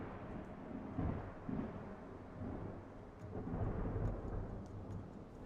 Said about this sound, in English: We got a little wind, but I think with a little magic of editing, we can take care of the audio